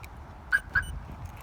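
Two quick high-pitched chirps from a Viper 5706V car alarm unlocking sound in close succession, with faint background noise afterward.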